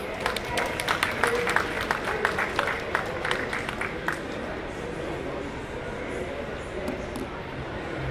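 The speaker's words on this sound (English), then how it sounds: "Please welcome him with a big round of applause" An audience at a COP30 climate and energy event applauds the welcome of Korea's Minister for Climate, Energy and Environment, with a burst of moderately distant clapping that thins and fades after a few seconds, leaving a soft room murmur.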